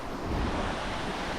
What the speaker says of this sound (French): La cascade de Tuf.